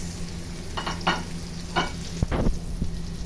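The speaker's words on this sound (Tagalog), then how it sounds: "para magkaroon ng frying texture until mag golden brown ang ating bawang at ang ating ginger" Garlic, ginger and onion frying in a pan, a constant low sizzle broken by several short scraping stirs, close and moderately loud with no talk.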